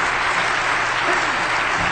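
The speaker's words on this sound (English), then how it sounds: "That applause is so sweet because I'm totally ad-libbing." Dense, steady audience applause fills a hall at an awards ceremony, a loud continuous wash of many hands clapping together with no voices over it.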